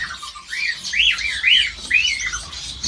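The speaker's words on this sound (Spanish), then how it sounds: "Es el famoso diamante de gol." A Gouldian finch in an aviary gives a run of loud, close, rising and falling whistled calls, four or five notes spaced about half a second apart, over faint background noise.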